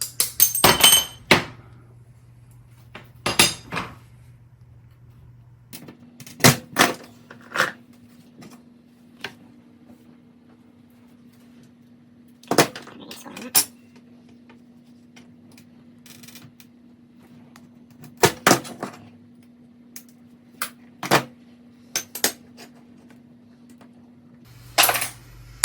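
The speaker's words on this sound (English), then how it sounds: "this is the hardest piece on this design to cut" Glass being cut and snapped for a stained glass piece, sharp clicks and taps recurring irregularly over a steady low hum, close and fairly loud with quiet gaps between.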